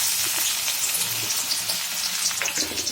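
Beef frying in oil in a pot while being browned for a beef bhuna khichuri, a steady close sizzle with faint stirring scrapes and no talk.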